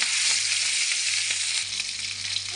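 Pieces of rohu fish frying in hot oil for a Bengali fish curry with potatoes, a loud, dense, continuous sizzle heard up close with a low hum beneath, no talking.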